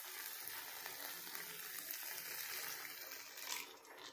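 Egg manchurian sauce mixed with half a bowl of water heating toward a boil, a soft steady hiss with light bubbling, faint and continuous, no talk.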